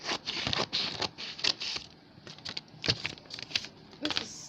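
Scissors cut through blouse fabric and paper during pattern making. The close, quiet snips and rustles come in an uneven, rapid patter with short pauses, and no voices are heard.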